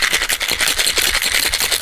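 A cocktail shaker is worked hard, ice rattling in a fast steady rhythm that stays loud and close without a break.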